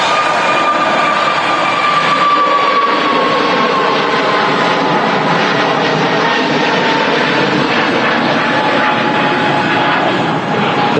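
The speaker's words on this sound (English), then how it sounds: "EasyJet A320 Neo" An easyJet Airbus A320neo jet at Manchester Airport roars loud and close for a sustained stretch, its engine whine holding a steady tone with a slowly falling pitch.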